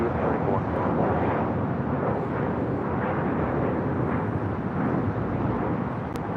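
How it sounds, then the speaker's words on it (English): Air Tahiti Boeing Dreamliner jet taxiing at LAX, a steady broadband engine roar that holds loud and even throughout with no break. "Looks like we're getting the Air Tahiti Dreamliner. Flight heading to Paris. Making that right-hand turn onto Kilo."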